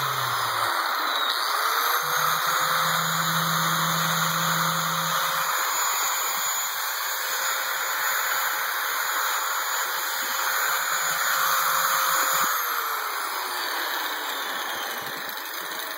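A DeWalt angle grinder runs continuously with its safety latch locked on, a steady high-pitched whine with strong tonal bands held at constant loudness, slowing slightly as it winds down near the end.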